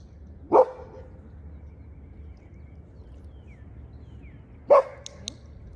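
A dog barks twice, with each short sharp bark standing alone and about four seconds apart. Faint clicks and a quiet background fill the gap between them.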